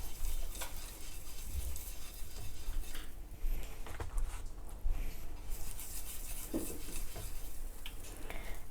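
Butter sizzles in a hot pan while it is spread across the surface before pancakes are cooked, with a constant close hiss and rubbing, scraping utensil strokes against the pan throughout.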